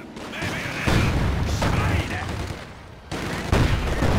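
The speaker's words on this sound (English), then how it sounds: "an excellent grenade comes out, does a lot of HP damage to these pioneers" Battlefield combat in Company of Heroes 2: loud bursts of gunfire and a booming blast, with sharp impacts over a rumbling background, with a voice partly audible underneath.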